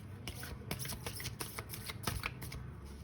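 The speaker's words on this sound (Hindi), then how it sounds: "I am shuffling the cards" Tarot cards being shuffled by hand, a quick run of soft papery riffles and flicks in short bursts, close and fairly quiet.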